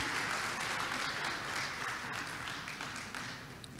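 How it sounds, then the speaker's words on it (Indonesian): Invited guests at Health Innovation Day 2023 give a full, steady round of applause throughout, fading slightly toward the close. "Boleh kita berikan tepuk tangan yang meriah Bapak Ibu tamu undangan."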